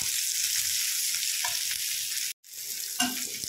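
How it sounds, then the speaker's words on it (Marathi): Green chillies fry in a pan for a dhaba-style egg masala, with a continuous close sizzle, a short break partway through, and a few stirring scrapes. "तर ह्याला पण 2-3 मिनटं असं त्याच्यामध्ये फ्राय करून घ्यायचं।"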